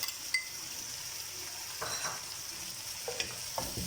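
Meat with tomato paste sizzles steadily in a pot, with occasional stirring scrapes and light clinks of a utensil against metal.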